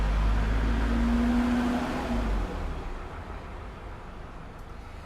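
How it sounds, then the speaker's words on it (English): A heavy vehicle rumbles by outdoors, loud low-frequency roar with a brief engine tone, then fading over a few seconds into steady background noise. "Now I've got a truck."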